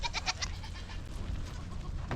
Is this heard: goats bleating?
yes